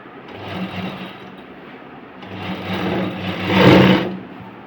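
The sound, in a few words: sewing machine stitching a blouse sleeve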